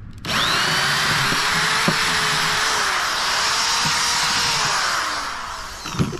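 A power drill bores through wood on an old small hay trailer being turned into a farm stand, a steady loud whine running nearly six seconds, shifting pitch slightly as the bit works, then stopping abruptly.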